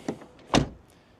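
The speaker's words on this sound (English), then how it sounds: "When you press here, you close it, and door closing sound." A Ford SUV door shuts with a single solid thunk near the middle, preceded by a couple of soft latch clicks, close and isolated with no talking.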